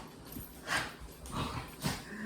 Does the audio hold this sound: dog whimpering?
yes